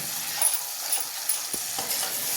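Onion-tomato paste with ginger and garlic fries in oil for an egg curry, a soft hiss with light stirring scrapes and a couple of spoon taps, close and fairly quiet, no talking.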